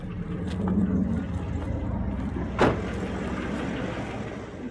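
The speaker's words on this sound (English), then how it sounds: "I turned down the sound of my engine running so that you can hear me talk." A car engine idles steadily, turned down low, while its alternator is tested, a quiet continuous hum with one brief sharp sound partway through.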